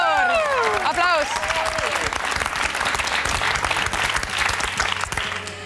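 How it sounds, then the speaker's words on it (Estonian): A large audience at the Eesti Laul song contest semifinal breaks into loud, sustained applause, with a few whoops and cheers rising over the clapping at the start before it settles into a steady roar of hands. "Aplaus!"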